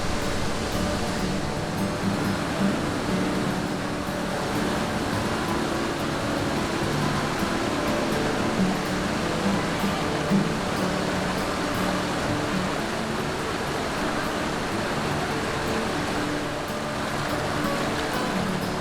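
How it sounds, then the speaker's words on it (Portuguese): Véu da Noiva, a tall waterfall along a riverside trail, roars with a constant broadband rush of falling water, steady and unbroken throughout with no distinct events. "A cachoeira Véu da Noiva tem uma queda bem alta e bonita."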